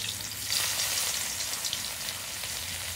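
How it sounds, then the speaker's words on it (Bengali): Chopped onions sizzle and crackle in hot oil in a home kitchen, a steady close frying hiss with no talking. "তেল গরম হচ্ছে, দিয়ে দিলাম পেঁয়াজ কুচি"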